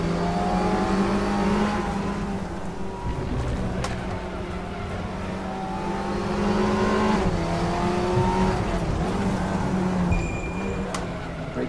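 Audi TT Cup race car in the Raceroom racing game at the Nurburgring GP circuit, its engine droning steadily with shifting revs and braking into a corner, loud and continuous without talk.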